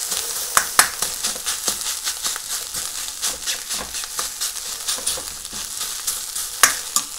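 Fried rice sizzles and crackles in a pan over high heat, with a steady frying hiss broken by regular scraping and tossing strokes of a spatula, close and fairly loud with no talking.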